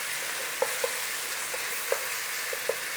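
Garlic and ginger fry in a pan with a soft, steady sizzle, punctuated by several light spoon taps and scrapes as they are stirred.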